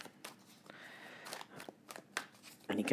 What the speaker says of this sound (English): And you can hear them shuffling.